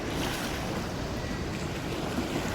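Narayani river swollen after heavy rain, a loud, continuous broadband rush of flowing water with wind buffeting the microphone and no clear pauses.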